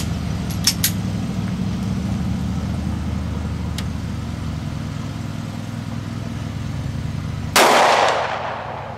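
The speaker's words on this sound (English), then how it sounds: "Okay, that shot's way off, and magazine popped out anyway." A Beretta Nano compact pistol fired one-handed at a range: one sharp, loud shot near the end, following a long stretch of steady low hum.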